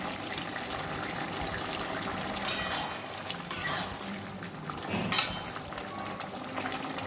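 Fried lentil dumplings dropped into a simmering cauliflower and potato curry, a soft bubbling bed of liquid with a few brief splashy plops and stirs.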